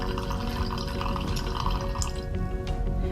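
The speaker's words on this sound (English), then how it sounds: "When I open the tap, water in the bottom layer would run out." Water draining from the tap of a glass separating funnel in a chemistry oil-and-water separation, a steady close trickle and patter with faint dripping, continuous throughout and without talk.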